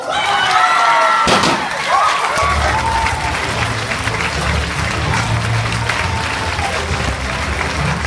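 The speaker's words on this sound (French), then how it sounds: "Applaudissements très forts." Loud audience applause erupts at a national Miss 15/17 beauty pageant as the winner is announced, a dense sustained roar of clapping and crowd noise with a presenter's voice heard at the start.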